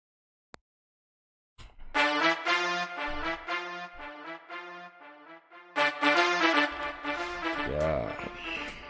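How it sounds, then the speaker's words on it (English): Brass section in an afro-house track, bold sustained stabs entering after a brief click and near-silence, swelling in two loud phrases with a rising sweep near the end. "yeah, it's a brass section that sounds like this"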